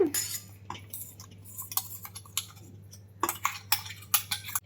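Crushed spice mix being transferred into a kitchen vessel for a vegetable quesadilla filling, heard as a run of light metallic clinks and taps from a spoon against the pot, scattered bursts with quiet gaps, close and without talk.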